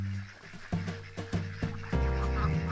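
Ducks quack in a short series of sharp, spaced calls, then a longer honking call, moderately close with outdoor background noise.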